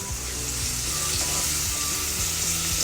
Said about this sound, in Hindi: अभी इसमें मैं थोड़ा सा अनियन ऐड कर रही हूँ।